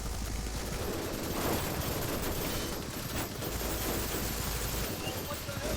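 Dense, continuous automatic gunfire and overlapping shots from the shooter game Battlebit, a steady loud barrage with no pause, with a voice faintly mixed in beneath it.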